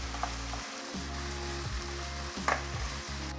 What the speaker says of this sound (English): Mix the seasonings together and cook directly on the surface of the frying pan to develop flavor.